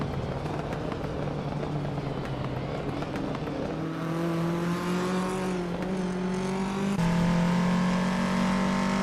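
Race car engines roar steadily in a racing video game, several cars close together with rising and shifting engine tones that climb in pitch as they accelerate, loud and continuous throughout.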